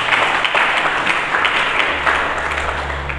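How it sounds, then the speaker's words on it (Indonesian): A congregation in a church service breaks into applause, many hands clapping in a thick, even wash that stays loud and near, easing slightly toward the end. "Mari kita berikan tepuk tangan bagi"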